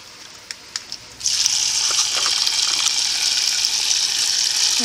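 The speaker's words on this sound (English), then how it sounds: "I'm just going to run water in there until they're completely covered." Tap water gushes steadily into a pot of soaked white beans at a kitchen sink, starting abruptly after a few small clinks and running on as a loud, continuous hiss with no talking.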